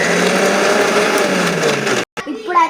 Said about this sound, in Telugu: ఇప్పుడైతే మిక్సీ జార్లో కొట్టేసాం కదా